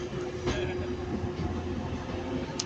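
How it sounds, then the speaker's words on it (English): Train rumbling at Manchester Piccadilly station, a steady low mechanical roar with faint clanks, moderately distant and without talk. "We've got another train under there."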